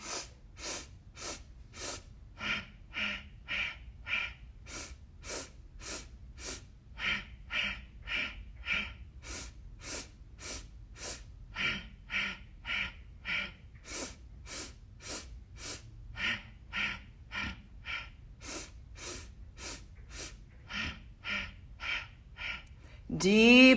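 Rounds of deep meditation breathing, each inhale and exhale clearly audible and close, repeating in a steady rhythm for the whole stretch with no talk, ending on a louder rush of breath.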